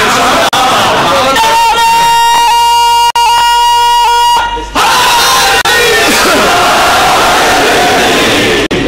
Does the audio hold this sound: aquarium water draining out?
no